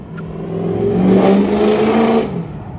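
A tow truck drives up in northern Utah, its engine swelling as it nears and revving past close by, then easing off. The engine sounds alone.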